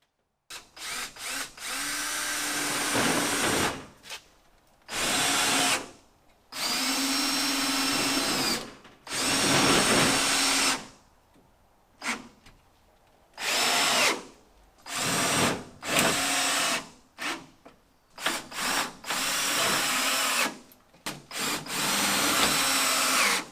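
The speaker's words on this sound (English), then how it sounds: "I used my self-tapping screws to attach both pieces to the studs" A power drill drives self-tapping screws through trim into studs inside a metal building workshop, in repeated bursts of whirring a second or two long, broken by short pauses, close and loud.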